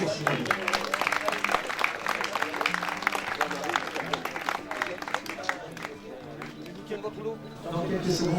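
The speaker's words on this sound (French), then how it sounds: "Une belle fois, des applaudissements pour les Chalet." Crowd applause greets the stage winners at a mountain-bike raid event in the Monts d'Ardèche, dense clapping running steadily throughout, with talk and music-like tones mixed in.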